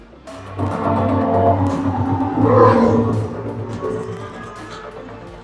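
Formula 1 race cars roaring with tyre squeal, played on a large cinema sound system, a loud swelling engine rumble that builds and fades over several seconds, heard from inside the auditorium with no talking.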